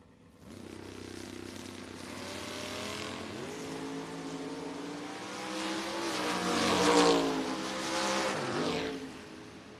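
Drag race cars, including a Chevelle, launching at the FRBR racetrack during the Independence Showdown: engines rise from idle into a loud revving roar that builds, peaks near the end and holds, with no talk.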